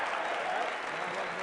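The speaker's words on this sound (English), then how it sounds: "You can hear the applause in the background." Basketball arena crowd applauding during an NCAA Division I game between Utah Tech and Utah State, a steady wash of clapping that continues through the whole moment without a break.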